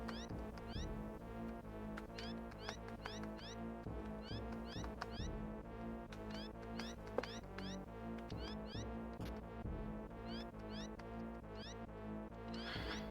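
Several cats meow in the Warriors: Legend of the Blue Dragon video game, with short repeated mews scattered quietly over continuous game music.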